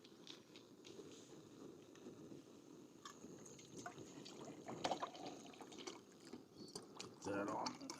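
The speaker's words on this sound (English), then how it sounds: "I'm going to put some water in my cup." Water poured into a camping cup at a hammock campsite in Colorado, heard faintly over a low, steady outdoor background, with a brief, slightly louder splashing pour near the end.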